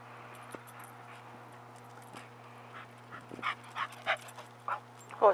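A Pembroke Welsh corgi gives a string of short yips and barks, growing louder toward the end and ending in a whining cry, over a steady low electrical hum.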